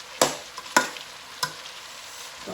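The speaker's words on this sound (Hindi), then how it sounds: "इसकी अच्छी तरह हम भुनाई करेंगे 3 से 4 मिनट तेज आंच पे।" Grated carrots for gajar ka halwa roasting on a high flame, with three crisp spoon scrapes against the pan over a light steady sizzle and a fourth starting at the end, no speech.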